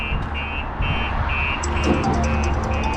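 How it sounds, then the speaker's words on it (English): A StarLine S96 smart alarm going off on a Land Rover Discovery 5, with a repeating electronic beep pattern in steady pulses, close and loud, over low background rumble. "Alarm's going off."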